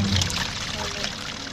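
Water poured into a pot or container, a soft trickling pour under a man's speech, fairly faint and close.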